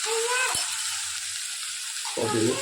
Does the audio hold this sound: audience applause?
no